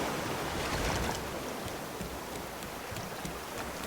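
Ocean waves wash around a floating raft in the survival game Raft, a broad steady hiss of surf and wind with soft splashes, continuous and fairly loud, with no voices.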